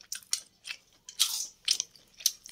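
Someone bites and chews a boiled chicken leg piece up close, in a series of short wet crunching bites and chews spaced unevenly, with no talking.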